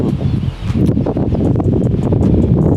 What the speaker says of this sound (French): c'est pareil avec ce vent